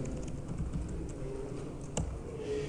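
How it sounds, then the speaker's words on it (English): Computer keyboard typing in quick, steady keystrokes over a constant background hum, with one sharper key strike standing out near the end; no talking. "Type in my IP address."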